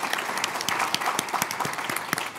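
Audience applause at a panel discussion on security and liberty, a dense steady patter of many hands clapping at close range, filling the clip with no talk over it.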